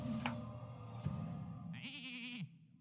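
A Hearthstone minion turned into a sheep gives a short, wavering cartoonish bleat near the end, following a few soft game chimes and clicks, clear and close.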